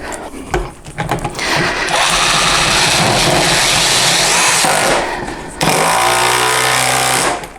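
A Parkside PDSSAP 20 B2 cordless impact driver drives 8mm by 50 screws, hammering loudly and continuously in two long bursts with a short pause between them, close to the listener.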